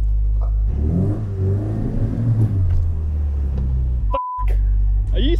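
Mini-truck engine revving hard while stuck on a slope, a loud sustained low roar that rises and strains, then cuts off abruptly before a brief voice.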